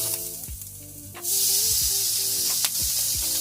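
Bacon sizzles on a new Blackstone griddle, a loud, bright hiss that bursts in about a second in and then holds steady and close. A few soft clunks sound over a faint tonal hum.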